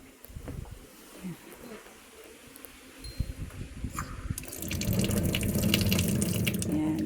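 Water runs from a tap at a farm water source, quiet at first and then gushing louder and steadier partway through, with faint outdoor background sounds.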